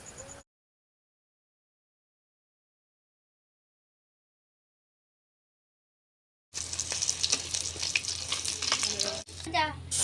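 Snakehead fish sizzling in hot oil in a pan, a steady crackling fry after a long silent gap, fairly close, with a short break before the sizzle resumes.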